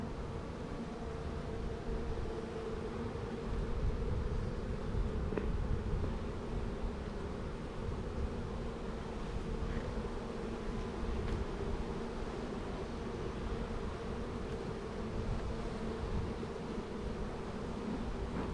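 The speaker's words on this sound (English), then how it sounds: "There are a lot more bees than what we got." Honey bees buzz continuously during a backyard hive inspection, a dense steady drone of many insects close by, with faint rustling and no talking.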